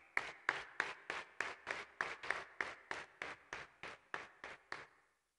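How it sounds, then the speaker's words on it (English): At a university convocation ceremony, crisp, evenly spaced claps sound in a steady rhythm, about fourteen in a row. They are quiet and distant, then stop abruptly. "Let us give a big round of applause to all of the above and show our gratitude to them."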